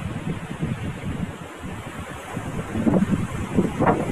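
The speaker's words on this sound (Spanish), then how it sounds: "Hay un pequeño río." A small river flows beneath a swaying suspension bridge near the Kotosh archaeological site in Huánuco, Peru, a steady broadband rush of water mixed with wind noise, with a few faint footsteps or creaks and no speech.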